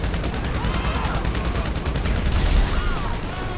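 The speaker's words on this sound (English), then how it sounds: "Grenade out." Grenade explosion and gunfire in the video game GTA Online: dense, sustained barrage of gunfire with heavy low-end booms swelling near the middle, loud and continuous throughout.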